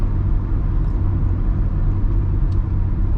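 A BMW E12 car pulling in third gear, its engine a steady low rumble that holds level and close throughout, with no voices over it.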